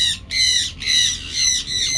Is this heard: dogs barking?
no